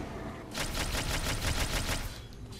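Rapid burst of gunfire in the God of War III video game, a dense string of about a dozen evenly spaced, loud cracks lasting roughly two seconds.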